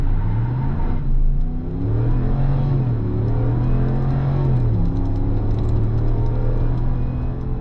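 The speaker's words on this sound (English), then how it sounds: "It's just so empowering to drive with that V8 chugging away in the background." A 2024 RAM 1500 Laramie V8 engine accelerates in a deep, throaty rumble heard from inside the cab, its pitch rising and falling through gear changes, loud and continuous with no talking.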